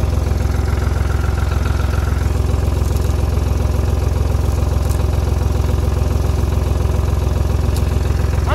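A Tümosan tractor engine runs in a forest, a loud, close, steady idling rumble with a fast even clatter that continues throughout, with no voices.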